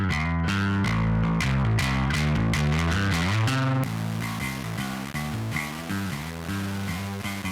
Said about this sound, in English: The Tape module is designed to emulate non-linearities of cassette tape and can be used for gentle saturation to very crunchy distortion